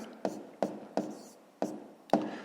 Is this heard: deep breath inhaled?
no